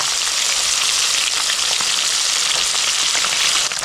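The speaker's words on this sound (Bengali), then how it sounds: "বাকি দুটো সেম লাল লাল করে ভেজে নেবো" Lilontika fish fry in hot oil with a loud, steady, close sizzle that crackles without pause and has no voices over it.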